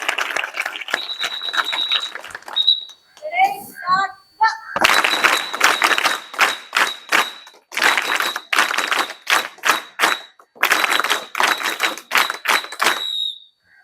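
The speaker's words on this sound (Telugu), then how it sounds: "రెజోనియాకి మనం గట్టిగా క్లాప్స్ కొడదామా?" An audience at a school sports event in Anantapur applauds for Resonia, sharp clap bursts arriving in uneven waves over roughly fourteen seconds, with a thin steady tone running underneath.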